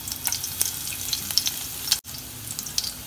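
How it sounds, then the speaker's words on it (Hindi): Chopped green chilli, garlic and ginger fry in hot oil in a pan, giving a constant close sizzle with small crackling pops and one brief break near the end. "अभी इसे मैं 2 मिनट तक तेल में भून रही हूँ।"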